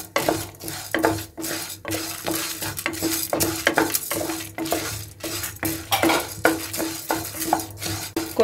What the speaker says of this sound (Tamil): ஃப்ளேமை வந்து மீடியமாக வச்சுட்டு நல்லா வறுக்கணும்